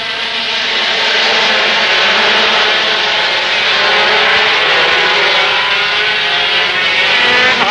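A pack of 125cc Grand Prix racing motorcycles at the 1982 Misano world championship race start with a loud, sustained, high-pitched engine roar that drones steadily and close throughout.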